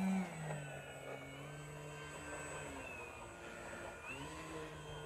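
An FMS Pitts 1400mm RC plane taxiing through grass, its electric motor holding a steady high whine with a faint buzzing drone, fairly distant and quiet, and the pitch dipping and rising briefly near the end.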